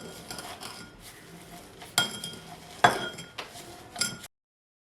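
Muddling mint leaves and three tablespoons of sugar in a glass for a mojito mocktail: a steady scraping grind punctuated by several sharp clinks of utensil against glass, close and fairly quiet, with no talking.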